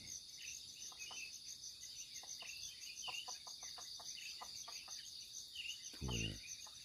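A chicken roosting in a small hut at night gives a brief, close cluck near the end, while dense cricket chirping fills the background throughout.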